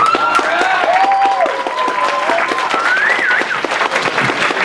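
Loud applause from a fan convention panel audience fills the room, dense clapping with a few cheers and voices riding over it, steady throughout.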